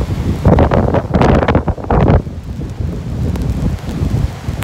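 Strong gusting wind from approaching Hurricane Dorian in Florida buffets the microphone in loud, roaring bursts, easing into a steady rushing roar with rustling noise.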